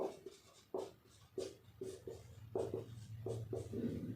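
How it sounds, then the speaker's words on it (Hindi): Handwriting a definition for a lesson on dice reasoning, a series of short scratchy pen or marker strokes in uneven bursts over a low steady hum, close and quiet. "मैं परिभाषा लिख रहा हूं"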